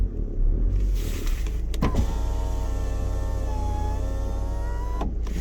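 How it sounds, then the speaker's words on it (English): The power window of a 2013 VW Sportwagon TDI lowers with a whining electric motor hum lasting about three seconds, heard up close over the steady rumble of the idling diesel engine. "Put the window down."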